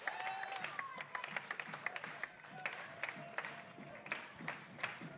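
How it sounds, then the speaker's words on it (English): A hometown baseball crowd at a Prospect League championship game stands and claps, scattered hand claps forming a moderate, distant applause while a commentator talks over it. "Everybody here is standing and clapping for their hometown team."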